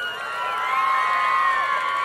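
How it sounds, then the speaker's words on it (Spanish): A rodeo crowd at a bull-riding event in Tomendan, Michoacán cheers and applauds steadily, a dense, sustained roar of voices and whistles at close range. "Si usted quiere que entre a la final, dígamelo con su aplauso."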